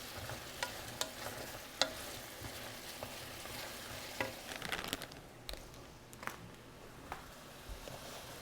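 Shrimp and vegetables with sugar snap peas sizzle steadily in a hot pan, a continuous frying hiss with scattered small pops and crackles and occasional stirring clatter, close and alone without talk.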